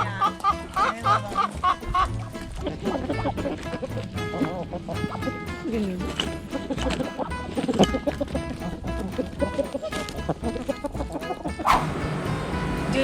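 Goose honking and calling among other fowl while gobbling food, repeated cackling cries over a busy backdrop, with people talking throughout.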